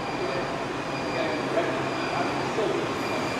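A crowded metro train at Bukit Bintang rolls along with a steady enclosed rumble, faint wheel squeal and a thin tonal whine, heard from inside the carriage.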